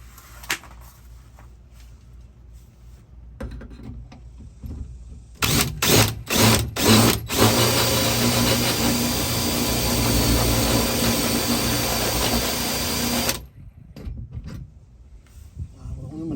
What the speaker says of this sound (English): now we're gonna get the pilot hole going for this next one